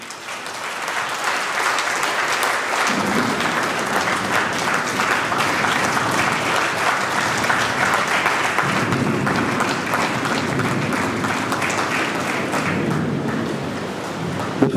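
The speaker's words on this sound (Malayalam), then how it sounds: "നമുക്ക് നല്ല കയ്യടികൾ നൽകാം." An audience applauds at a Catholic Church award ceremony honouring film actors, a dense, sustained clapping that rolls on evenly for many seconds and swells slightly partway through.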